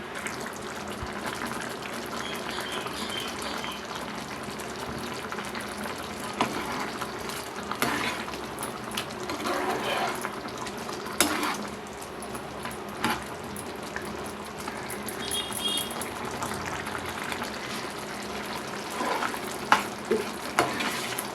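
Creamy potato malai curry simmers and gently sizzles in a pan while a spoon stirs it now and then. The cooking sounds stay soft and steady, with small scraping clicks and no talk.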